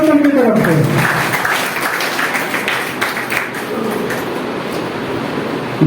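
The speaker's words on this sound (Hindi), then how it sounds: "जोरदार ताली हो जाए" A crowd at an Ayurvedic business event breaks into loud, sustained applause that follows a voice at the start.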